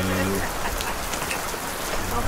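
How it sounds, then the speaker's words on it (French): Steady rain pours down in the Amazon forest of French Guiana, a dense, even hiss of drops hitting leaves and surfaces throughout, with no talk. "Et vous savez quoi? Il pleut, il pleut."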